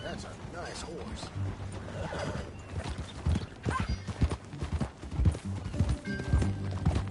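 Horse hooves clip-clop in Red Dead Redemption 2, with a brief whinny, under steady in-game dialogue and background sound.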